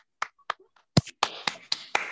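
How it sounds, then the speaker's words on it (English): A handful of sharp, separate claps and taps from children come through over a video call, sparse at first, then a quicker run of claps. "You can clap, unmute yourself so that we can hear you."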